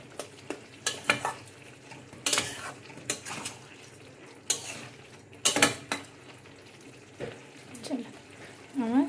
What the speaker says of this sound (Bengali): এটাকে ভালো করে আমি একটু আর ঘাঁটাঘাঁটি করে নিচ্ছি।